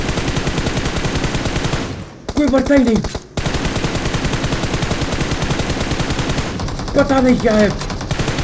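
Sustained automatic gunfire in the mobile battle royale game BGMI, dense rapid rattling bursts filling nearly the whole stretch with two brief pauses, while someone talks over the shooting.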